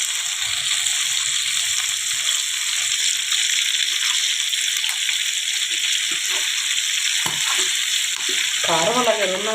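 Chicken joints frying in a pan over a lowered flame make a steady hissing sizzle with light crackles and a few clinks and stirring knocks, and a brief voice-like sound comes in near the end.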